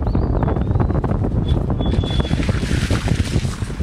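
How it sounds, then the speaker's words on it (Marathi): The Parvati River near Kasol in Himachal Pradesh flows in a steady, loud, close rushing roar that runs unbroken throughout, with no talking. "पार्वती नदी आहे ही."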